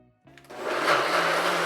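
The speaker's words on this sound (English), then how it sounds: "Snap it over, follow me to the blender." A blender spins up after a short pause and roars steadily while blending a cashew alfredo sauce, loud and close.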